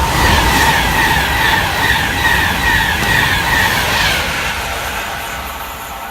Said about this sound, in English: passing now is another 390 Virgin Trains Pendolino service